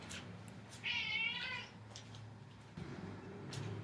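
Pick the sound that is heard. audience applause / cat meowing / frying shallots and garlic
cat meowing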